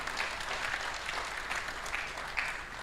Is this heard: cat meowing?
no